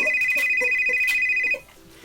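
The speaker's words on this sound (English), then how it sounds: "You have a phone call." A phone ringtone for an incoming call plays as a loud, bright repeating electronic melody close by, then cuts off after about a second and a half, leaving faint room sound.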